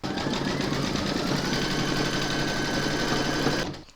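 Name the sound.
embroidery machine stitching panty liner in the hoop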